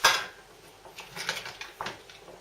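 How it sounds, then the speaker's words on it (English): Celery being cut with a knife, a clatter of a blade at the start followed by several light, irregular taps against a board, close and fairly quiet. "you want to cut the celery lengthwise and then chop it into pieces."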